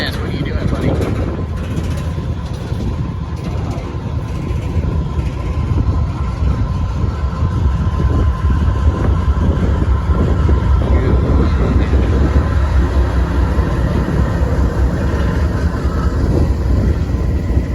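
A Norfolk Southern freight train rolls past up close, a loud, steady rumble of wheels and cars grinding on without letup, with people talking over it.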